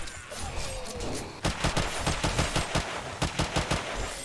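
Rapid automatic fire from a player's gun in a survival video game, a loud rhythmic string of close shots after a quieter opening of ambient game noise.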